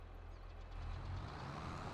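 A Case tractor engine in the video game Farming Simulator gives a steady, low diesel drone that swells slightly as it runs, loud and close, with no talk.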